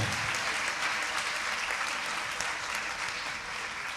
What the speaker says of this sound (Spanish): todos esos aplausos que sean para la gloria de Dios siempre